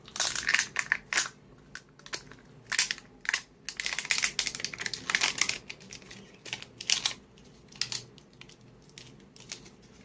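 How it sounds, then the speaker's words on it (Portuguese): A cured polyurethane resin mixing cup is broken apart by hand up close, giving a run of sharp, irregular cracks and crunchy snaps in uneven bursts with short pauses between them. "Isso é toda a resina, o copinho tá quebrado aqui, ó."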